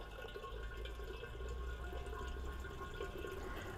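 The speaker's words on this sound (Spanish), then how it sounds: "Ahí le estoy echando agua" Water pours steadily into the boiler of a small toy steam engine, a continuous close trickling and splashing fill with no one speaking.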